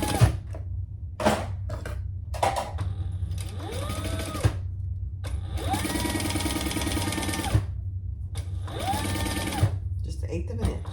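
A sewing machine basts a panel of fabric in place for an enlarged Aries crossbody bag, running in several loud bursts of rapid stitching separated by short pauses, close and clear.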